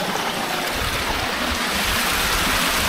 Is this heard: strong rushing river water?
yes